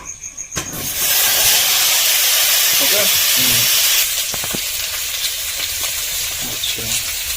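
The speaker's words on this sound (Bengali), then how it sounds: "যে তেল আছে কড়াইতে সেই তেলে আলুগুলো ভেজে নেবো" Potatoes fry in hot oil in a kadai wok, a loud close sizzling hiss that jumps up as they hit the pan and keeps crackling, with a brief word spoken and some stirring scrapes.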